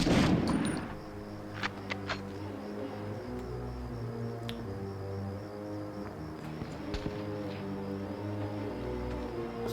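Gunfire in the Medal of Honor video game: a burst of shots at the start, then scattered sharp cracks over a continuous battlefield rumble and droning background, with no talk.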